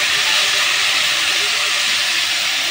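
Tomato hitting hot oil with cumin for a chicken momo masala gives a loud, steady broadband sizzle and hiss that carries unbroken throughout.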